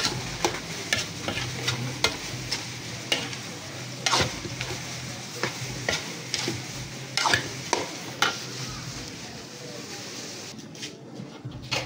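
Pork sisig sizzles in a pan as chili and mayonnaise are stirred in, a steady frying hiss marked by repeated clinks and scrapes of a spatula against the pan, close up, with the sizzle fading near the end.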